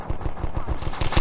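Rapid automatic gunfire in the video game Half-Life 2 rattles out as a fast, steady burst of about nine close, loud shots with no talking.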